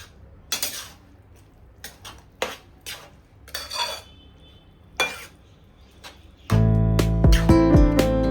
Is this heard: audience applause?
no